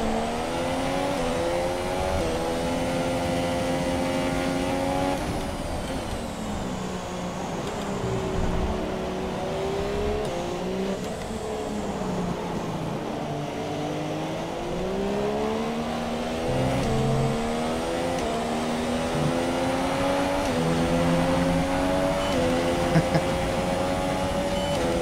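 Formula 1 race car engine in an F1 racing video game at the British Grand Prix, a loud, steady high-pitched whine that climbs and dips through gear changes for the whole stretch, close and continuous.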